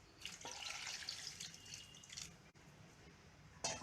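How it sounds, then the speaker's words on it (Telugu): Water is poured into a metal pressure cooker, splashing in a steady stream for a couple of seconds, faint and close, with a short splash near the end. "కొద్దిగా వాటర్ వేస్తాం."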